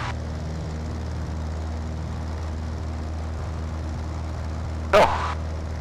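Small propeller airplane C-FMVU drones steadily from inside the cabin during its takeoff run, a constant loud low engine hum with a brief burst of noise near the end.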